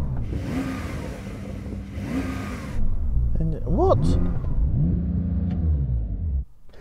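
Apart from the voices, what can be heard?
Porsche sports car engine revving in Sport Plus mode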